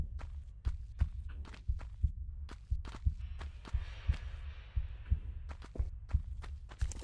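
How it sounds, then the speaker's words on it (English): Enemy footsteps in Tomb Raider 1, a steady run of sharp, evenly spaced thuds about twice a second, moderately close, with a faint hum in the background. "Oh no, I hear footsteps again."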